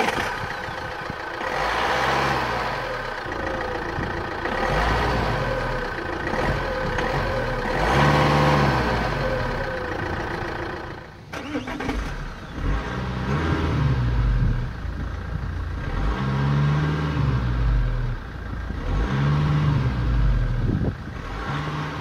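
A 2012 Vauxhall Insignia SRi 2.0 CDTI 165 bhp diesel engine runs at a steady idle, with a low, even clatter and drone that rises briefly before settling, heard close with no talking.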